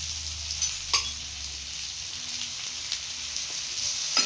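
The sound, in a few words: thalipeeth flatbread frying in oil on a pan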